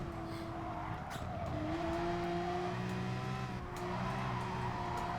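Race car engines in GT Sport roar on the Dragon Trail track in a Manufacturer Series race, a steady high drone whose pitch rises and falls with gear changes, loud and continuous.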